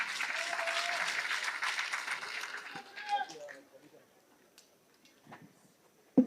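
A crowd applauds a county governor at a public forum in Nairobi, with dense, loud clapping for about three seconds that then thins out and fades to near silence. A few isolated sounds come at the end.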